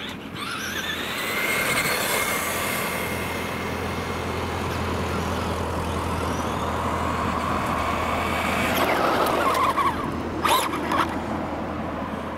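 A Traxxas Bandit RC car on new rear wheels drives continuously, its steady motor whine and rolling noise filling the whole stretch, louder near the end with a few sharp bursts.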